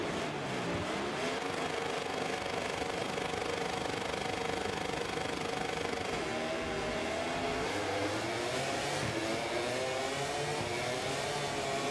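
Racing motorcycle engines roar off the grid at the Sepang circuit in the MotoGP 24 video game, rising and falling revs layered over each other in a continuous loud drone with no talking.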